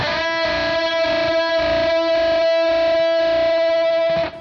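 Distorted electric guitar plays a unison bend from the riff of a song, pushed slightly out of tune into a screechy, wavering vibrato, one sustained loud note held alone for about four seconds before cutting off.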